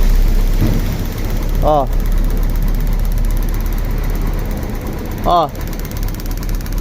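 A Suzuki GD110HU motorcycle engine runs steadily after conversion to a LIHUA DC CDI ignition, a close, loud, even rumble carrying on throughout while a man briefly exclaims twice over it.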